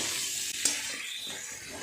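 Ridge gourd, pointed gourd, potato and tomato fry together in a pan for a prawn curry, giving a continuous close, hissing sizzle with no talk.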